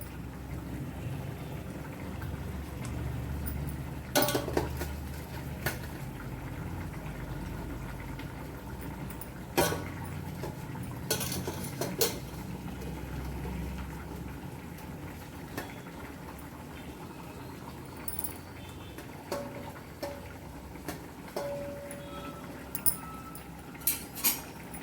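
Chopped, salted snake gourd is scooped into a pot of cooked moong dal, with scattered clinks and scrapes of a utensil against the pot over a steady low kitchen background and no talking.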